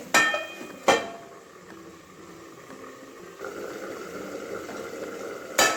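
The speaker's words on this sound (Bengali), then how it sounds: "মাছগুলো কিছুক্ষণ ফুটিয়ে নেব ঢাকা দিয়ে।" Katla fish simmers under a lid in a pot, a soft low bubbling throughout, bracketed by sharp clanks of the lid or pan at the start, around one second and at the end.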